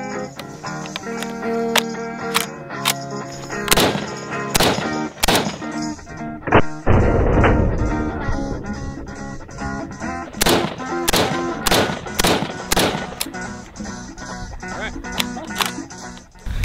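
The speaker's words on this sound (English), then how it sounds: "next we're gonna be shooting the PTR 91" A PTR 91 rifle, a replica of the HK G3, fires a run of loud, sharp shots at irregular spacing, some in quick pairs and others spread apart, with the crack ringing out outdoors.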